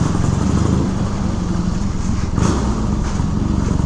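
A 1976 Triumph Bonneville T140V 750 motorcycle with a two-into-two performance exhaust idles close by, its loud, steady, lumpy twin-cylinder burble running without a break.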